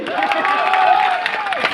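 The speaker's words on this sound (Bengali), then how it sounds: "সবার জন্য একটা বড় করতালি" Crowd of students applauding and cheering at a celebration march in Faridpur, a dense burst of clapping lasting under two seconds.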